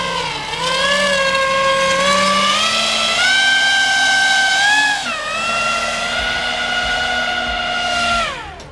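A Pro Boat Aerotrooper 25-inch brushless RC air boat is driven over lily pads, its fan motor giving a loud, continuous whine that rises and falls in pitch as the throttle changes, then eases off at the end.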